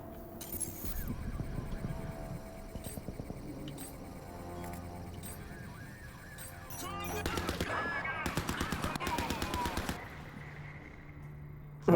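Turret gunfire in Crysis 3 Remastered: rapid, mechanical bursts of automatic shots, quieter at first, then louder, dense firing in the second half, with game sounds and occasional talk underneath.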